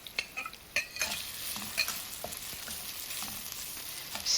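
Diced pork sizzling and being stirred in a hot pan with minced ginger and white scallion rings: a steady close frying hiss broken by several sharp spatula scrapes and clacks, with no talking.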